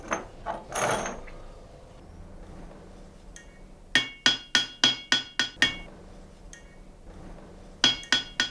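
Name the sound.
hammer striking warped steel scissor blades on anvil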